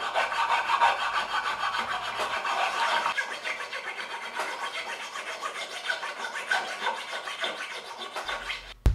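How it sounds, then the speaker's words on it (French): A hand file rasps back and forth over wood, rounding a guitar truss rod channel, giving a continuous scratchy, rhythmic rubbing that stays close and steady, with a faint low hum beneath it at the start and end. "Et j'arrondis le tout à la lime."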